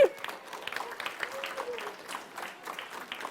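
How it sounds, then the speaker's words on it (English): A small audience at a children's library reading event claps for two neighborhood librarians. The applause is fairly faint, with scattered claps and some voices mixed in. "Give them a big round of applause, everybody"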